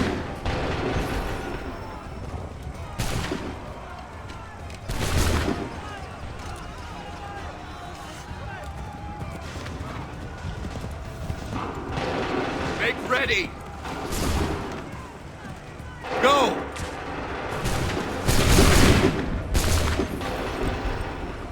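Scattered musket volleys and single gunshots from Assassin's Creed III ring out in a battle scene, several sharp broadband bursts spread across the clip over a busy background of game ambience and voices.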